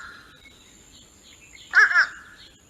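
A fish crow gives a single short nasal caw, close and clear, after a faint high thin call against a quiet background.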